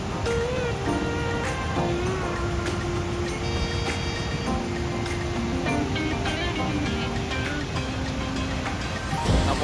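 Ban Giac waterfall in Vietnam sends out a steady, broad rushing roar of falling water throughout, with some faint tonal sounds drifting over it.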